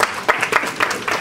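An audience at a village school board meeting claps in a short burst of uneven, overlapping hand claps, moderately loud and close.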